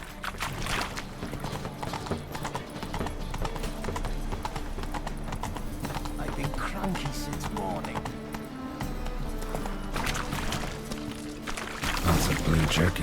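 A horse gallops in The Witcher 3 with rapid, steady clip-clop hoofbeats throughout, mixed with game ambience and occasional creaks, and a voice speaking briefly over it.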